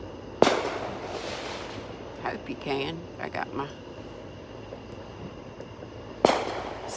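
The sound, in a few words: fireworks going off in the distance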